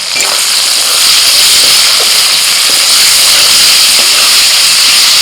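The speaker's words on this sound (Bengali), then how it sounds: "ফোড়নটা হয়ে গেছে, এবার দিয়ে দিচ্ছি পেঁয়াজ কুচি।" Five large chopped onions dropped into hot oil with tempering spices for a chicken leg curry, a loud, continuous, close sizzling hiss with no talk.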